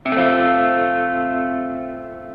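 A single sustained chord played on a keyboard imitating an electric guitar, with a slightly staggered, strummed onset, ringing out and slowly fading.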